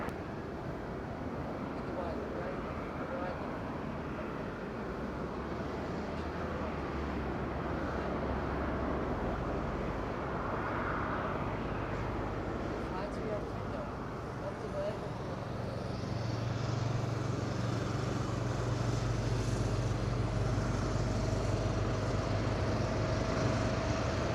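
A Ryanair airliner takes off at Madeira Island Airport, with a steady, broad engine roar that holds throughout and swells louder toward the end, low rumble strong under faint background voices.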